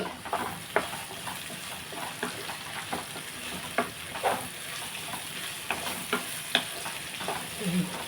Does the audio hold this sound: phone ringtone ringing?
no